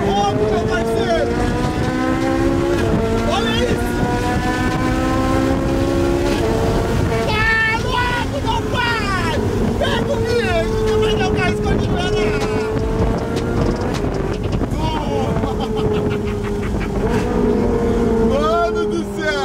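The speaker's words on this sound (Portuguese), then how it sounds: "Ele é uma Ferrari Itália 458." A Ferrari 458 Italia sports car drives with a sustained engine drone that rises and falls as it revs, heard from inside the car with wind noise and people talking over it.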